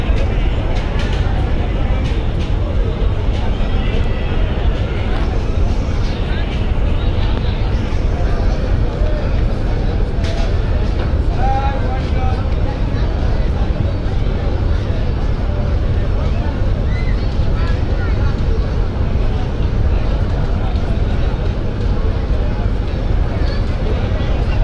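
Passenger launch M Khan 7 idling at the Barisal ghat before reversing out, a steady low engine rumble that runs throughout beneath continuous crowd babble and dockside noise.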